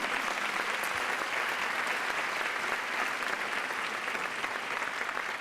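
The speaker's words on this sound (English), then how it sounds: "We'll get a round of applause for Madeline and Jim." Steady, dense applause from a large crowd at Stanford opening remarks, sustained and even throughout, with no voices standing out.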